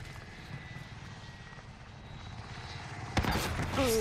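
Helicopters exploding during a Warzone battle royale match: a steady rotor and engine drone runs throughout, then a sudden loud blast near the end, followed by a short rising tone.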